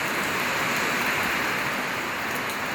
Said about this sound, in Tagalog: So ayan, ulan na naman after na umaraw konti kaninang umaga.